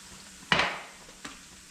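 A utensil knocks once against a pot while locro stew is being stirred, followed a moment later by a softer second clink, close and alone.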